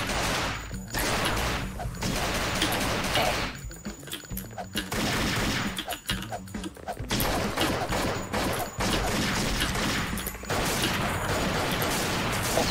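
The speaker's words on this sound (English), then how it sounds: "That's a grenade launcher." Dense, relentless gunfire and explosive thumps from the side-scrolling shooter Thing Thing 4 on hard mode, a grenade launcher firing amid loud, continuous combat noise that barely lets up.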